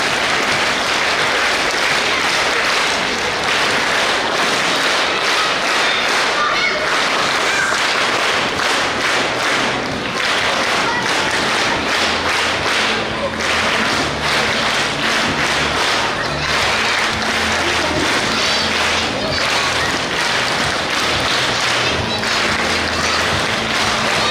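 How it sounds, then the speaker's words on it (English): A crowd claps for the chief guest at a school primary sports day, sustained loud applause lasting the full stretch with sharp individual claps and thuds and faint background murmur. "let us all cheer our chief guest for today, Dr. Irfana, with a round of applause"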